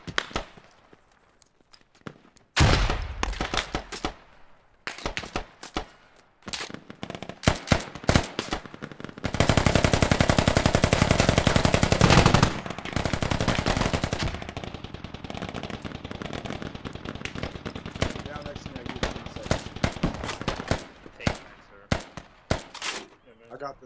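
Dense, rapid machine-gun bursts and scattered gunshots ring out during a castle-defense multiplayer match in the military shooter Squad, loud and sustained over about twenty seconds, with players talking over the firing.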